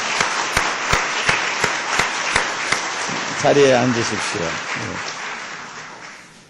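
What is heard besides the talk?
applause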